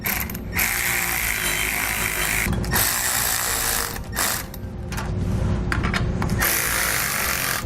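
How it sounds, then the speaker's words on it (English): A power tool whirs and rattles in long runs while tightening bolts during an Air Lift LoadLifter air helper spring install on a 2014 Ford F-350, loud and close, with short breaks between bursts. "Now we'll start to tighten down these bolts evenly."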